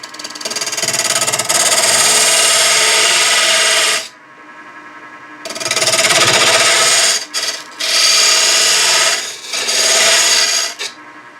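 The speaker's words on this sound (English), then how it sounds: "So I'm using a 1/8 inch parting tool." A 1/8 inch parting tool cuts straight into spinning wood on a lathe while a jewelry box is turned, giving a loud, steady rasping scrape in three long passes separated by short pauses, with no talking.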